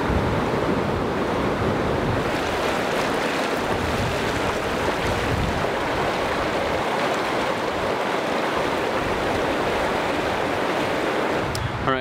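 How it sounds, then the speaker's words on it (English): A rushing mountain stream in the Adirondacks pours loudly and continuously, a dense broadband roar of water with some wind buffeting the microphone throughout and no voices. "this raging, flowing stream of water"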